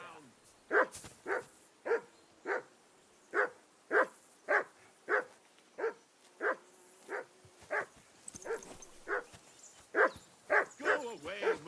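Dog in the medieval game Kingdom Come Deliverance 2 barking repeatedly in a steady rhythm, roughly a dozen and a half loud, close barks that grow quicker toward the end, with faint game speech underneath.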